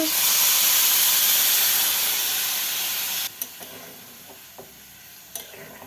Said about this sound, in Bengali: এখন এটাতে একটু পরিমাণ মতো জল দিয়ে দেব